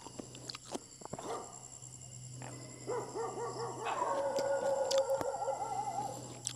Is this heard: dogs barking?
yes